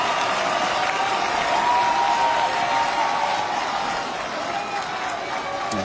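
A stadium crowd applauds as footballers enter the pitch at a Senegal versus Saudi Arabia friendly, a dense, steady wash of clapping and crowd noise filling the whole stretch without a break.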